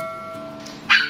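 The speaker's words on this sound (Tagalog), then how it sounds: "Nag-aapura na yung aso namin." A dog gives a single short, sharp bark near the end, after a steady hum of background tones, close and fairly loud with no talking.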